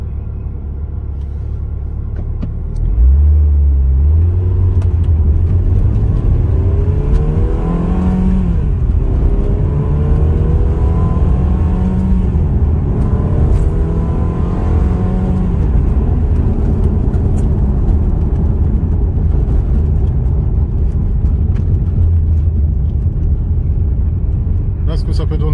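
A Ferrari 360 Modena's engine drones loud and close from inside the car, rising in pitch as it pulls through several gears, with someone talking over it.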